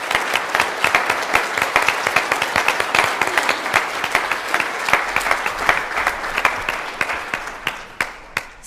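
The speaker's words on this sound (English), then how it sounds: "I would like you all to applaud them for everything that they have done." Audience applause at a patient conference on Charcot-Marie-Tooth disease, a dense steady clapping from a roomful of people that carries on for several seconds before tapering off into a few scattered final claps.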